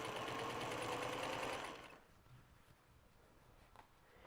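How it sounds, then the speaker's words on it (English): A sewing machine runs steadily, stitching folded binding onto fabric in a quilt-as-you-go project bag, then stops; faint handling noises follow. "I'm just going to stitch on the fabric, and I'm going to try to keep most of the presser foot on the binding that I'm folding around."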